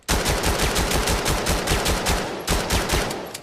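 A PL-14 pistol in the video game Vail fires a rapid string of loud, close shots at a fast, even rhythm, with a short break before a final burst.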